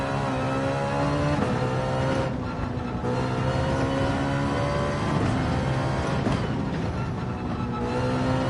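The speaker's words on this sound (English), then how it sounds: "Oops, rev limiter." A race car in Gran Turismo 7 holds at high revs, its engine droning loudly and steadily with slight pulsing as it bounces off the rev limiter.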